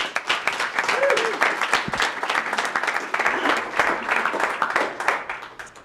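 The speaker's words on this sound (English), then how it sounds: "Give them an applause, guys." An audience at a 1 Million Cups startup event in Kansas City applauds the Fishing Caddy presenters: steady, dense clapping that holds for about six seconds before thinning out, with a voice briefly audible near the start.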